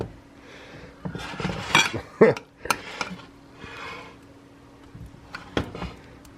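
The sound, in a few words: spreading White Castle dip out in a dish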